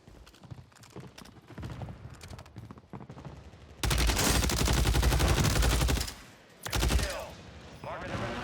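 Rapid automatic fire from the SOA Subverter rifle in Call of Duty Warzone, loud sustained bursts crackling between quieter in-game sounds, with a long heavy volley in the middle and a shorter burst after.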